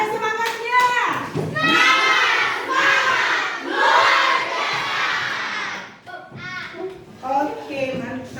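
A class of children shouts together with enthusiasm in a lively classroom, their loud, overlapping voices rising in bursts and waves, with a short lull before another burst.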